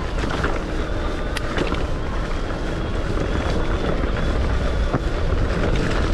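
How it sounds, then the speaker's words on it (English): Steady, loud wind noise roaring across the microphone while riding a Luna X1 electric bike, a constant broadband rush with no breaks and no talking. "You're probably gonna hear more wind noise than gear right now."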